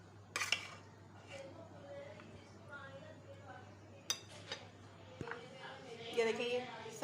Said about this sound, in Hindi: बस मैं सिंपल डिश आउट कर रही हूँ, प्लेट में निकाल रही हूँ।